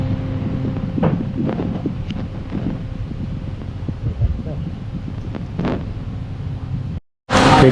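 Strong wind buffets the microphone on a fishing boat at sea, a steady loud roar with gusty rumbles throughout that cuts out briefly near the end before returning.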